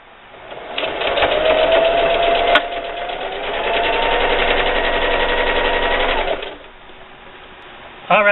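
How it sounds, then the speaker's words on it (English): A sewing machine stitches binding onto a quilted patriotic table runner, its motor whirring in a steady rapid chatter near at hand for several seconds, easing briefly, then running on before stopping. "just keep sewing"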